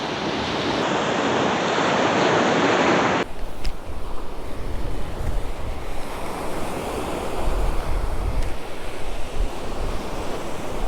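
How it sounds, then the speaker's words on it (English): Steady wind roars across a beach where surf crashes continuously, with loud gusty buffeting on the microphone and no voices. "the wind is pushing about between 10 and 15 miles per hour"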